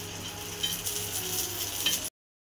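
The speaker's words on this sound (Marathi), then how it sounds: "थोडंसं आपण तेल टाकून घेऊ आणि मिरच्या चांगल्या भाजून घेऊ।" Green chillies frying in a little oil, a steady close crackling sizzle with bright hiss that runs evenly for about two seconds and then stops.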